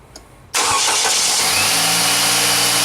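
A 2000 Chevy Cavalier 2.4 liter engine fires up after a serpentine belt tensioner replacement, a sudden loud catch into a steady close idle after brief quiet.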